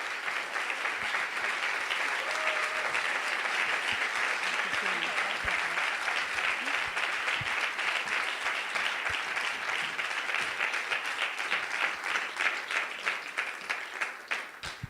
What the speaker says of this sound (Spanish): Démosle la bienvenida con un fuerte aplauso a Cristina Rosenbinge.